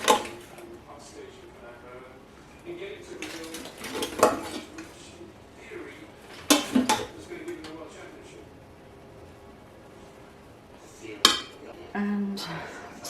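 Savory rice being served from an Instant Pot with utensils: intermittent clinks, scrapes and knocks of spoon against pot and plate, fairly close, with some talk mixed in.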